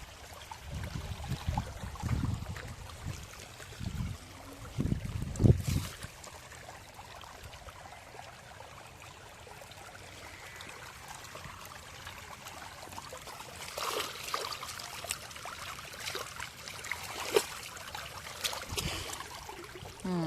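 Irrigation water flows into a farm field of groundnut crops, a steady low trickling rush with a few louder splashes early on, heard outdoors with no talk.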